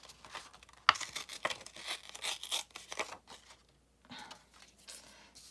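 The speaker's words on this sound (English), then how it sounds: "And then maybe I'll just tear it out." Paper torn out by hand for a collage journal cover: a quiet series of short ripping and crinkling bursts with brief pauses between them, close by, no talking.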